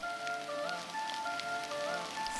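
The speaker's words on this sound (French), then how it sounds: "La pluie tombe de plus en plus fort." Steady rain falls on a surface, a soft continuous patter with faint tonal music lines running underneath and no voices.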